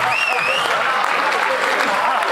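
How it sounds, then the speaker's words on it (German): A concert crowd applauds loudly and continuously after a stage dive, dense clapping filling the whole stretch with a few whistles and shouts rising over it. "gebt uns noch einen Applaus"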